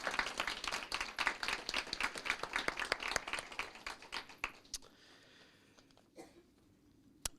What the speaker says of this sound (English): Please let's give them a warm round of applause as they make their way up.